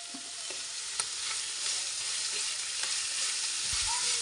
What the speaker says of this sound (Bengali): পেঁয়াজ আর রসুন দেওয়ার পরে কিছুক্ষণ ভেজে নিয়ে লাল করে নিচ্ছি।